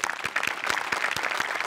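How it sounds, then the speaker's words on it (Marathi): A studio audience at a Marathi comedy show applauds, a lively, continuous clapping with distinct, regular loud claps standing out from the crowd's dense patter, close and fairly strong. "तुमच्यासाठी एकदा जोरदार टाळ्या आमच्या सगळ्यांकडून."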